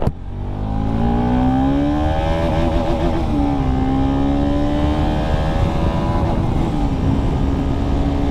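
A motorcycle engine, just back from an oil change and maintenance, is held at full throttle. It gives a loud, steady, close roar for about eight seconds, with its pitch climbing and wavering slightly.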